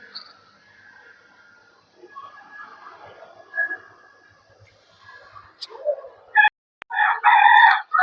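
Chickens on a rooftop poultry farm give faint scattered clucks beneath quiet talk, before a rooster crows loudly and close near the end.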